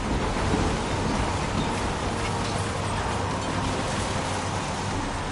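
Heavy, steady rain pours down in the Heavy Rain video game, a dense hiss with low rumbling thunder beneath it, loud and constant throughout, with no voices.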